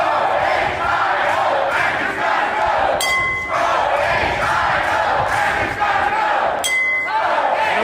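Protest crowd shouting outside the State House during a lockdown demonstration, a loud, dense roar of many voices with bursts of yelling and brief sharp clinks, continuous and close throughout.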